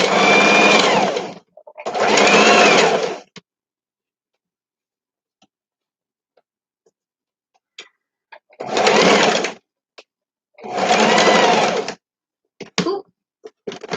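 Sewing machine with thread nesting underneath, running in four loud, close bursts of steady stitching separated by pauses with faint handling clicks.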